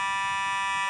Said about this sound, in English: a fire alarm here at our GPP studios, to be exact